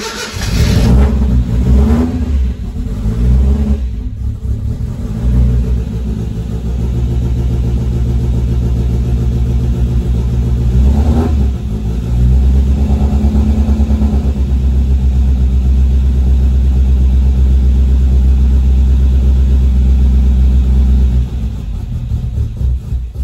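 A TVR Vixen Series 3 engine is fired up on a separate starter button, cranks and catches, then is revved loudly several times with rising and falling surges before settling into a rough, steady idle close by.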